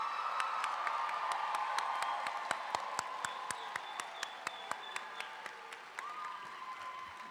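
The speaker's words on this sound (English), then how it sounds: "A final round of applause for this year's May graduating class" Applause for a graduating class at a spring commencement ceremony: sustained crowd clapping with some cheering, under loud ringing tones and sharp regular beats that carry on throughout.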